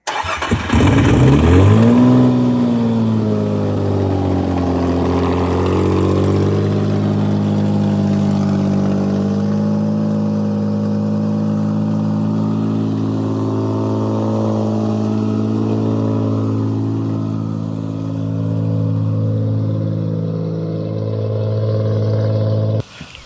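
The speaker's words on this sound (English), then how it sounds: "this motor is in and running now. We have officially HR swapped the G35." Nissan G35 with a swapped HR engine cranks and catches, rising into a brief rev, then settles into a steady loud idle that carries on smoothly, with no one speaking.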